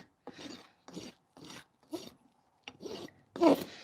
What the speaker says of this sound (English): A brand new rasp, I have to be kind of cautious.